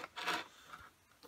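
Hand file rasping against a wooden TV stand piece during a woodworking build, a short rubbing burst of strokes at close range followed by a few fainter scrapes.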